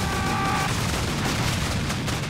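In the video game Serious Sam: Double D XXL, explosions and gunfire merge into a continuous, loud roar of bursts and booms with no pause.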